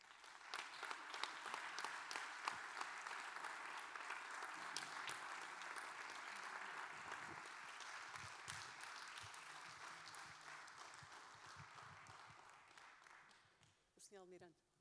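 A large audience applauds young musicians at a commemorative programme presentation, sustained and even clapping that carries on for a long stretch before tapering off at the end.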